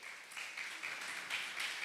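A church congregation applauds together, a steady wash of many hands clapping at a moderate distance that holds even throughout without pause.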